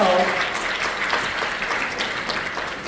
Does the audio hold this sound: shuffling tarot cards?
no